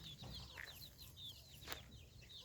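Free-range chickens and chicks cluck and peep close by in a short burst, with repeated high chirps from the chicks over softer hen clucks, fairly faint overall.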